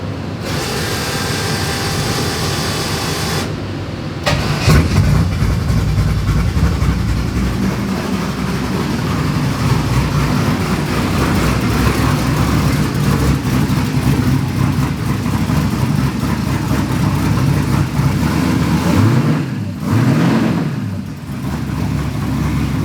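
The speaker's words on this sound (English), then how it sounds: "Good chance to see how well it cold starts after all those changes." A twin-turbo LS-swapped Ford Fairmont tuned on Holley EFI cold-starts with a loud catch, then settles into a steady, rumbling idle that stays strong and close, with a couple of small dips in the engine note near the end.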